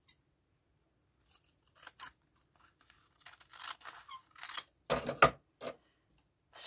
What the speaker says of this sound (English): Squeaky scissors, they're German.